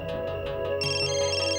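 A phone ringtone plays a short, bright electronic melody, steady and fairly close, with no voices.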